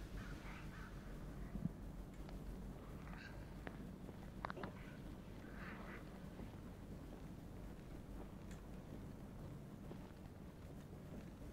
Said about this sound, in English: Did they try and get me with the bird?